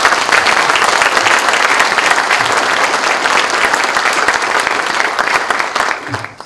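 Audience applause at a university presidential inauguration and farewell ceremony, a dense, sustained wash of clapping from a large crowd that holds steady for several seconds before tapering off at the end.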